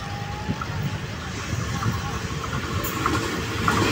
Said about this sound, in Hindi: सामने आ रही है 7 अप तेजगाम एक्सप्रेस